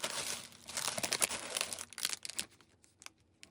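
A merchandise delivery package is torn open by hand, with close, crisp bursts of crinkling and ripping that come in uneven clusters and thin out to soft rustles over a few seconds.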